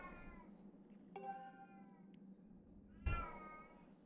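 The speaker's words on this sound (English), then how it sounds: "My cat is currently in the other room, howling under the door." A cat howls from behind a door in another room, muffled and fairly distant, with several drawn-out meows rising and falling, the last one louder, over a low steady hum.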